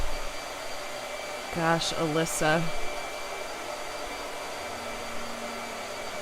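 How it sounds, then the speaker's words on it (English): A blow dryer runs steadily throughout with a constant airy whir, while a person briefly speaks partway through. "Blow dryer."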